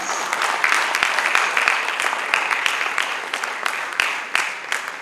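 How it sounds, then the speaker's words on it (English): Audience clapping for a university Vice Chancellor at an academic workshop, moderately loud, a steady mass of hands with distinct individual claps popping out across the burst. "we are clapping for the Vice Chancellor of our dear institution"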